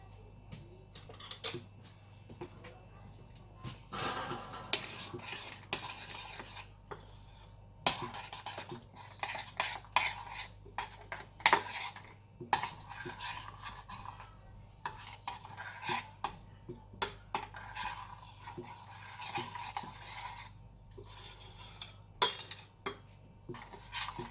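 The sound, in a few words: stirring tomato sauce in a pot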